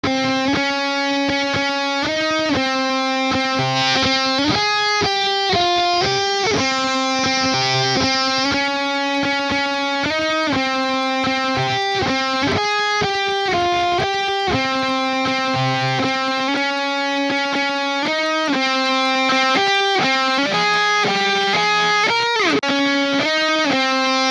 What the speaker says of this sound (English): This is way too much distortion, obviously, maybe even the wrong guitar for this kind of solo, or the wrong amp.